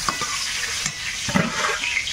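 Bengali five-spice tempering and bay leaf sizzling in hot oil in a pan, a loud close hiss with crackling spits and a few stirring scrapes, continuous for a couple of seconds and no speech.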